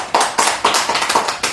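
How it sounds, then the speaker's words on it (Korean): A small group claps at a Buddhist monk's talk, with about seven or eight close, sharp, slightly uneven hand claps spread over a second and a half and no speech. "박수 한번 드리세요."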